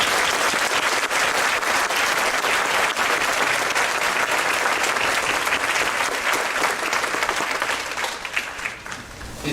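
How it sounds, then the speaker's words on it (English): An audience at a high school concert band performance applauds loudly and steadily for the whole stretch, dense clapping from a large crowd that tapers slightly near the end. "Let's give him a round of applause."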